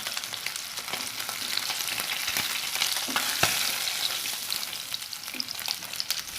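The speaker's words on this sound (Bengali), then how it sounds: "প্রথমে একটা প্যানে আমি তেল নিয়ে নেব মাছগুলো ভাজার জন্য" Katla fish fries in oil in a pan with a continuous bright sizzle, broken by a few sharp spits and pops, close and fairly loud, with no one talking.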